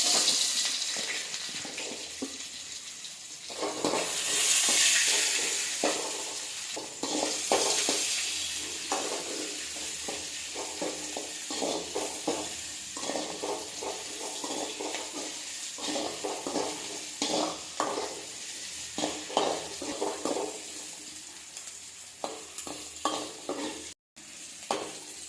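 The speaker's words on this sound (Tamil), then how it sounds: "வெங்காயம் இந்த அளவுக்கு வதங்கினா போதும்." Onion and four dried red chillies sautéing in a pan, a close steady sizzle broken by frequent scraping stirs of a spoon, loud and continuous with no talk.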